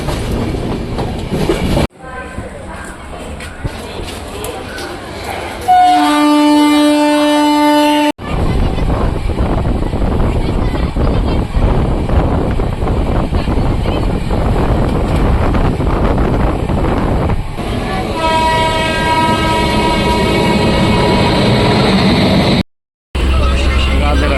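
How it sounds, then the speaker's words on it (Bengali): Train pulling into a large platform station in Jharkhand, India: steady rolling rumble and rail clatter, with two loud horn blasts, and voices faintly under the noise. "এখন আমরা পৌঁছে গেছি ঝাড়খণ্ডের সবচেয়ে একটা বড় প্ল্যাটফর্ম স্টেশন"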